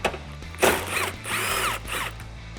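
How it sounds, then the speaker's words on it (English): A 10mm socket ratchet backs out the last headlight bolt on a RAM 1500 pickup, giving a few close, bright bursts of clicking and mechanical whirring with short pauses between them. "grab your 10mm socket and remove the last bolt up top"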